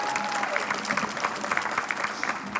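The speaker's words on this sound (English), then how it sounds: "go ahead and clap" An audience at a school district ribbon-cutting ceremony claps, a dense, steady round of applause with some crowd murmur mixed in.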